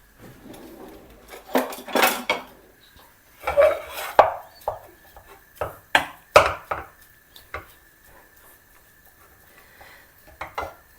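Spoon, cutlery and dishes in a home kitchen during chilli prep: a dozen or so sharp metallic clinks and clatters in irregular bursts, close and fairly loud, with quieter gaps and a faint steady tone in between.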